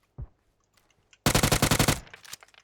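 Automatic gunfire in PUBG: a single sharp shot, a pause, then a loud rapid burst of about a dozen rounds lasting under a second, trailing into a few fading reports.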